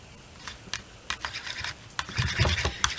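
Aloe vera gel and salt are stirred together into a slime, making a series of wet squelching, sticky clicks and scrapes that grow busier toward the end.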